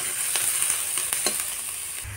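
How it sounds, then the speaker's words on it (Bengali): Chopped onion sizzles steadily in a pan with a little salt, a continuous bright frying hiss broken by light scraping stirs and small crackles, close and moderately loud, with no talking. "পেঁয়াজ কুচি ভেজে নেব ভালো করে"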